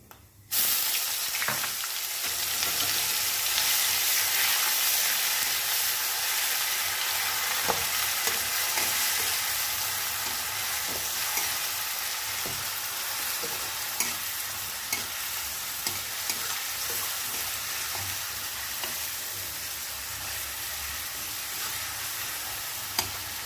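Ginger paste frying in hot oil in a pan while being stirred, a loud, steady close sizzle with scraping stir strokes throughout, no voices.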